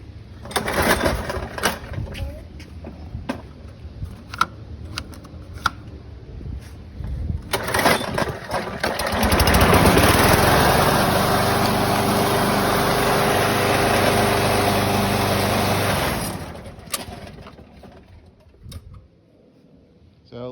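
A 2004 Murray self-propelled lawn mower's small engine is heard amid clanks and knocks, then roars steadily and loudly for several seconds before cutting out and fading to quiet.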